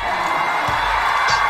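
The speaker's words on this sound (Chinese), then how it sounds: "来，掌声欢迎。" A television variety show's studio audience applauds and cheers steadily, welcoming singers about to perform a rock song. The dense clapping continues throughout, with scattered whoops rising above it.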